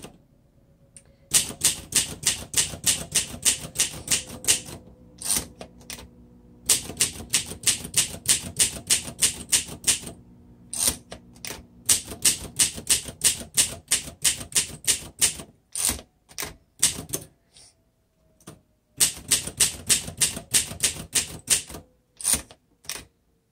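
Continuous typing on a 1957 Olympia Deluxe typewriter with plastic keys, a rapid, loud run of crisp key strikes in bursts separated by brief pauses and occasional carriage sounds, heard close and alone.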